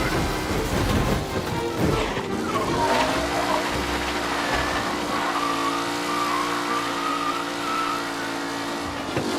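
Car racing in Mafia Definitive Edition, with a loud, steady engine drone that climbs in pitch early on, then holds a sustained tone as the car slides under the handbrake over continuous game ambience.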